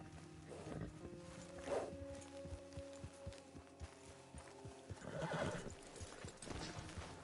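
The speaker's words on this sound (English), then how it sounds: "Get your horse." Horse hooves clip-clop across a Red Dead Redemption Online game scene on PS5, with whinnies rising over the steady footfalls amid ambient game sound and background music.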